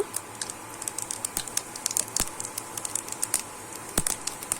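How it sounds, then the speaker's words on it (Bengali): Cumin seeds tempering in hot oil left from frying hilsa fish heads, crackling and spitting in quick irregular pops that are crisp and fairly close. "এবারে কিন্তু ওই তেলেতেই কিন্তু জিরে ফোড়ন দিয়ে দেব"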